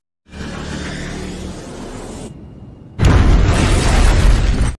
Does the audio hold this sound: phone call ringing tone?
no